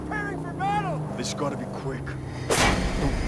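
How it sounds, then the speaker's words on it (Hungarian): Sniper gunfire in the Mad Max video game: one loud, sharp blast near the end, following a stretch of game engine rumble and someone talking. "a mesterlövész kiszúr, akkor elkezd lövöldözni"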